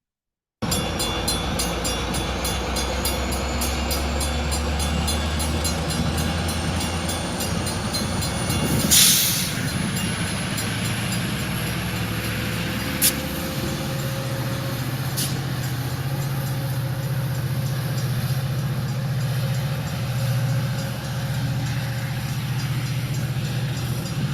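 A Metro MP36 PH-3C locomotive rumbles steadily past with a loud continuous low drone, rolling rail noise and a few brief sharp squeals and clanks, nearby and without talk.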